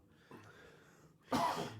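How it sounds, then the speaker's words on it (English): Two coughs from one person with a seasonal cough, a soft one followed by a louder, harsher hack, close up in a quiet room. "This is just my normal fucking seasonal cough that I get"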